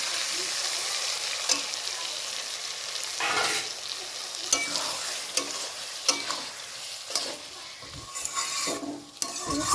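Paste of cashew, raisin, peas and poppy seed being stirred and fried in a pan for alur dom, with soft sizzling under repeated scraping strokes of a spoon, close and moderately quiet.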